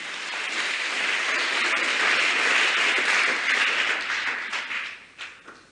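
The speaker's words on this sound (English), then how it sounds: "Can you clap yourself, please?" An audience at a scholarship send-off event applauds steadily for several seconds, a dense wash of clapping that swells slightly, then tapers into a few scattered final claps.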